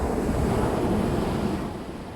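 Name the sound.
ocean waves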